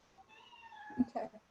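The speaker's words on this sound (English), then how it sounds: "Cat wants input too." A house cat meows close by in a quiet room, a short drawn-out call followed by a couple of quick chirping sounds, faint and heard alone.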